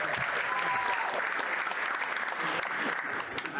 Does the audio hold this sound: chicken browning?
no